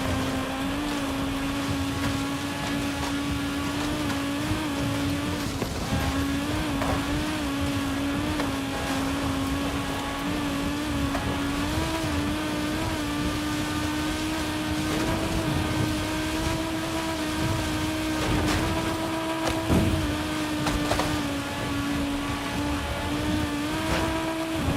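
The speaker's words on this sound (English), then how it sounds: "I like the 5-cylinder turbo in this car." A five-cylinder turbo car engine in Forza Horizon 5 holds a steady, droning hum at moderate revs, with slight pitch wobbles as it cruises, loud and continuous throughout.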